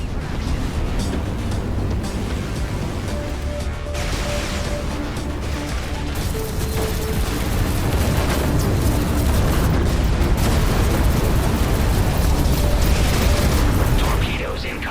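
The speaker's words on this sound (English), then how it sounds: "there is a barrage of torpedoes incoming" Torpedo barrage explosions in the space shooter Everspace 2, a dense, continuous wall of booming blasts and rumbling impacts with mechanical clatter, loud and sustained throughout, swelling toward the end, with faint voices mixed underneath.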